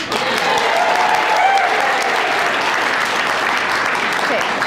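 Sustained crowd applause for honoree Cindy Thrasher at the 2010 St. Paul Neighborhood Honor Roll event, a full, steady wash of clapping with some voices underneath.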